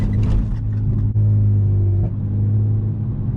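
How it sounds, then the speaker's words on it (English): Honda Accord V6 nitrous build driving through the city, a steady loud engine rumble and exhaust drone close by, with faint small pops crackling over the continuous note and no one talking. "I hear the little mini pops going on back there."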